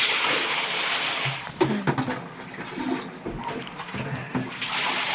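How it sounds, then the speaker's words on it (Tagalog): A washing machine is draining its water in a steady, loud, close rush, with gurgling and sloshing throughout and no talk. "Tinatapo na po ang tubig para papalitan ng tubig."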